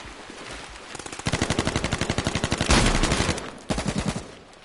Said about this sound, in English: I said it was an AK.